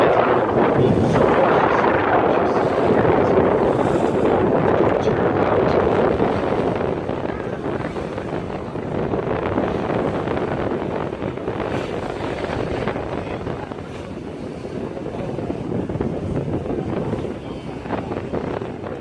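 A tour boat in Chicago rides bumpy water in heavy wind. Dense roaring wind buffets the microphone over a low engine rumble and water rush, loud and continuous and easing slightly toward the end.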